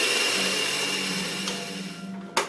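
An electric mixer beating egg whites for a Sri Lankan love cake, a steady close motor whir that slowly eases off and ends with a sharp knock.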